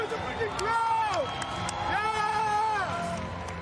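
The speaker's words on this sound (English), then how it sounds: "make some noise, give it up for Montreal, Canada" Crowd at the Dubai Games 2025 sports event, cheering and whooping in a busy wash of noise, with a voice carrying rising and falling shouted tones over it.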